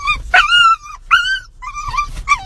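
A dog lets out a series of loud, close, high-pitched whimpering yips and whines in bursts of rising and falling cries, with no talking.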